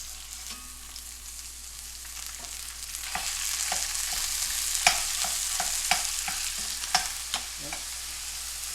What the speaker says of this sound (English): we can go ahead now and add our ground beef. And this is a 80-20 ground chuck.